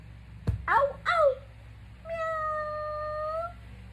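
Cat meowing: two short, close meows followed by a longer, drawn-out steady meow, over a low continuous background.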